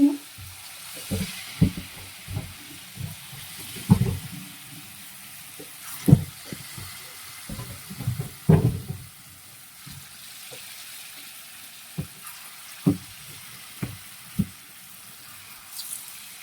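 Palm fruit fritters fry in oil in a large wok, with irregular pops and bursts of bubbling sizzle, busier at first, then sparser.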